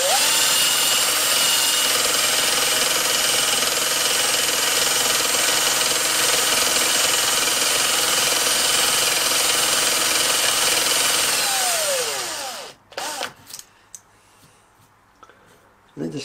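In a knife-making workshop, a power tool runs steadily, driving a strip of emery through a knife's lanyard tube. It whirs loudly for about twelve seconds, then winds down and stops, followed by a few clicks.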